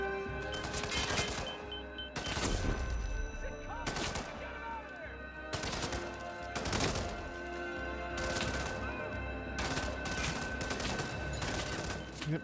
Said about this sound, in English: Yep, another flashbang.